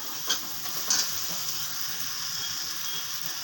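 Spice masala for a cabbage ghonto stir-fried in a pan: a steady hiss of sizzling oil with a couple of soft scraping stirs early on, continuous and close.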